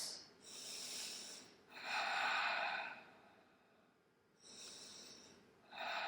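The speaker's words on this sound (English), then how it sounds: "Keep on breathing in and out through your nose." Slow nasal breathing during a vinyasa yoga flow: three long airy breaths, each a soft rushing inhale or exhale through the nose, close and clear with quiet pauses between.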